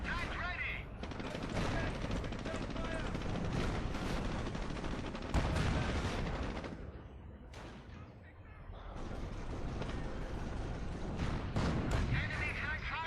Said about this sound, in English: Enemy tank firing.